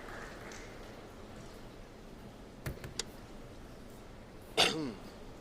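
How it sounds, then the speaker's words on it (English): A short throat-clearing cough, then a second louder cough, both close but muted against a steady background hiss, at a table tennis singles final. "I don't know if you can hear my cough"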